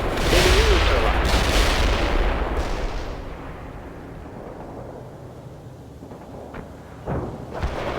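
Heavy weapon and missile fire in the World in Conflict video game: a loud rumbling barrage that fades into a lingering low roar, then more distant booms near the end.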